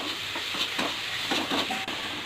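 Spice paste and onion fry in a pan for a rohu fish egg and potato curry, giving a soft continuous sizzle with gentle rhythmic stirring scrapes, close and moderately quiet.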